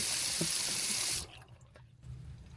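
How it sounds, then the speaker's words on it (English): Water runs from a single bathroom sink tap with decent pressure in an Emerald Princess cruise ship balcony cabin, a loud steady rush for about a second before the tap shuts off, leaving quiet room tone. "it's right above your single sink, which has decent water pressure"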